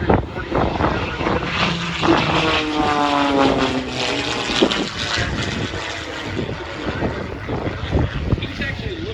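A propeller-driven aerobatic airplane performs at the EAA AirVenture Oshkosh airshow, its engine droning and shifting pitch as it flies past at a distance, with commentary voices heard over it.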